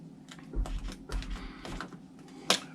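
A metal hose clamp is worked off an engine breather hose, making a few close, faint clicks and scrapes with a sharper snap near the end.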